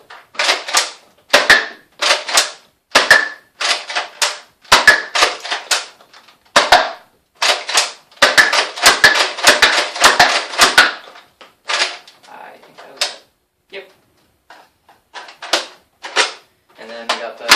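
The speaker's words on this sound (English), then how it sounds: "I will fire 5 darts normally, and then I will slam fire the rest" A Nerf Tristrike blaster fires darts in a rapid series of sharp, snappy clicks and pops, a few normal shots then quick slam-fire bursts, close and dry with short pauses between volleys.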